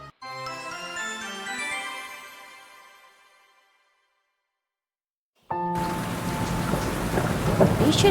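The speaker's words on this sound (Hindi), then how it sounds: "भीषण बारिश की एक अंधेरी रात थी। आकाश में काले बादल छाए थे, बिजली चमक रही थी" On a dark night, heavy rain and a thunderstorm burst in abruptly after a fading melodic tone and a moment of silence. The downpour is dense and loud, with rumbling thunder beneath.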